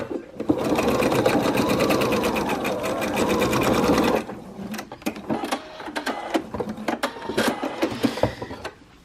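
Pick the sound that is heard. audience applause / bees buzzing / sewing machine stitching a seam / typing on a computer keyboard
sewing machine stitching a seam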